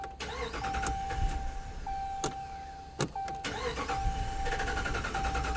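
A car engine cranking for a long stretch: a close, rhythmic starter churn with a steady electrical whine, broken by sharp clicks, running several seconds without voices.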